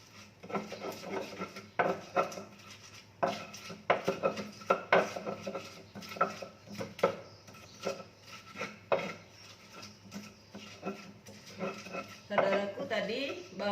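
Dayak spices are pounded and ground in a stone mortar for a Dayak Ngaju dish, giving repeated close knocks and scraping rubs in an uneven rhythm.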